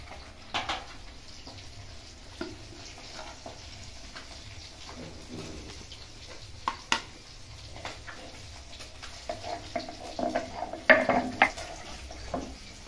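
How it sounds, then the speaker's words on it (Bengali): An onion is ground by hand on a grinding stone in a home kitchen while a rohu fish curry is prepared. Faint, irregular scraping and rubbing strokes come in uneven bursts, growing busier toward the end, with no talking. "এরপর আমি পেঁয়াজটা বাটবো"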